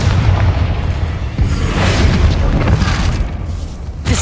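A Confringo spell explodes in the Hogwarts Legacy video game, a loud, sustained rumbling blast with heavy low boom and crackling debris that fills the whole moment, with a sharper hit near the end.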